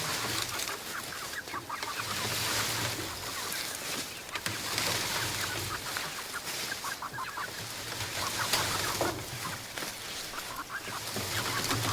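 Chickens cluck and scratch inside a chicken pen. A dense, steady chorus of soft clucks sits over constant outdoor hiss, with no voices.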